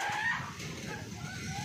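Chickens cluck softly and steadily at a moderate distance over a low, noisy background.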